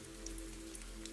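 Night rain patters on a greenhouse window, a soft steady spatter of drops with a few sharper taps, faint and close over a low constant hum.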